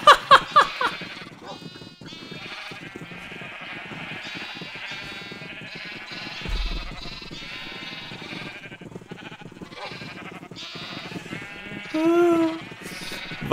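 Sheep in the video game Minecraft bleat repeatedly on a farm, several short wavering cries scattered across the stretch, moderately loud, with a clear bleat near the end.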